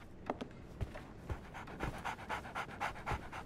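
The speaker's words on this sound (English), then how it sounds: "So, Barnes has a dog now." A dog in the video game Sherlock Holmes: The Awakened pants rapidly and steadily close by, quick breathy puffs repeating in an even rhythm, with no talking.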